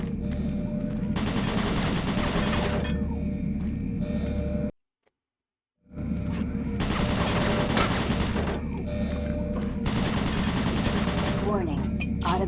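Automated turret guns in Doom 3 fire in long, rapid bursts of loud gunfire, broken by a sudden second of near silence before the relentless shooting resumes and carries on to the end.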